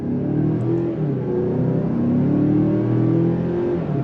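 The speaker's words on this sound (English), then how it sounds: "On throttle, here we go." A 2024 Mazda CX-5 Turbo SUV engine pulls hard under throttle through its 6-speed transmission, its drone rising steadily in pitch as the vehicle accelerates, heard from inside the cabin.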